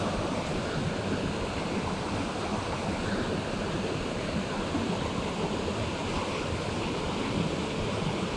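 Small waterfall in a trout stream in North Carolina woods, a steady close rushing roar of falling water, unbroken and even throughout, with no talk.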